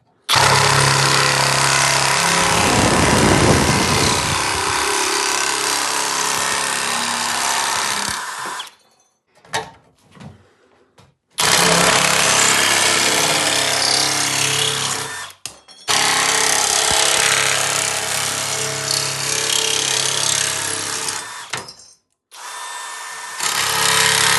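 A Sturmax SNM160 shear attachment mounted on a drill cuts sheet metal in loud, steady bursts of high-pitched motor whine and grinding, broken by short pauses and brief restarts.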